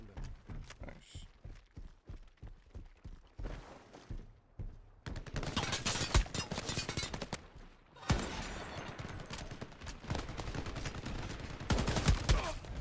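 Rifle gunfire in the first-person shooter game Shatterline during a team deathmatch, a burst of rapid shots at first, then heavier sustained firing and explosive bursts with a short lull between them.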